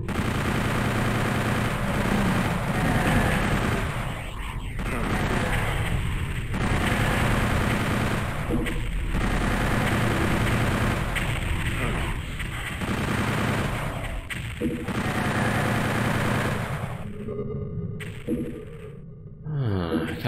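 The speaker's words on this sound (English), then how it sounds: "chain gun" Chain gun fire in Doom 64, dense rapid bursts roaring almost continuously under echoing game noise, loud and close, with brief breaks near the end.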